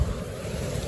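Ocean waves wash onto a beach, a continuous low rushing surge mixed with wind buffeting the microphone, close and fairly loud with no voices.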